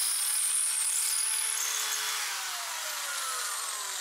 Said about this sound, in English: So when I was drilling, I wasn't quite perpendicular.